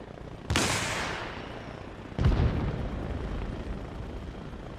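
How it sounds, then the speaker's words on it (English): Two heavy rocket blasts in Arma Reforger, the first near 0.5 s and a second about 2.2 s, each a loud broadband boom trailing into a long rumbling decay, with no talk. "Those are friendly rockets."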